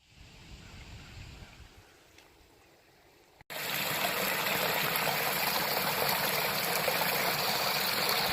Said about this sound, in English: you hear that running water?